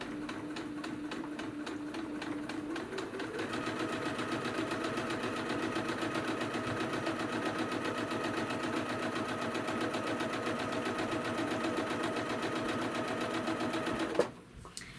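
A sewing machine runs at a steady pace stitching quilt blocks, its needle hammering in a fast even rhythm that speeds up after a slow start and stops abruptly near the end.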